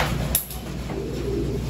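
Pigeons cooing inside a loft and aviary, a soft low murmuring coo with a brief brighter flutter near the start, close by and steady, with no talking.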